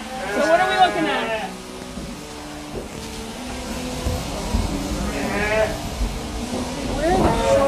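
Sheep bleating in a shearing shed during the shearing season, several wavering bleats rising and falling over a low rumbling background, some near and loud, with people talking between the calls.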